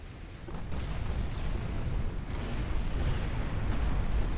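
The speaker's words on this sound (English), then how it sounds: "Another cruiser getting pounded by our battleships." Battleship guns pounding a cruiser in Ultimate Admiral Dreadnoughts, Japan 1910: a steady, dense rumble of distant heavy gunfire and explosions rolls on throughout, low and continuous with no distinct single shots standing out.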